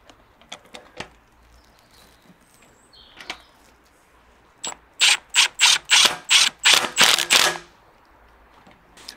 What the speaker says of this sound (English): I'm going to be using a Milwaukee impact just to nip the bolts up, and then I'm going to go in with a torque wrench.